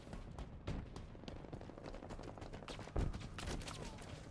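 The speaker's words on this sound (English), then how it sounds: "I shot him a few times" A quiet, busy burst of video game gunfire: rapid shots and impacts crowd together over about four seconds, with a heavier thump near the middle and a dense, chaotic texture throughout.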